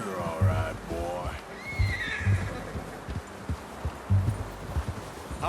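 A horse in the video game Red Dead Redemption 2 lets out a loud, close whinny near the start, followed by soft snorts and low thumps of hooves or movement.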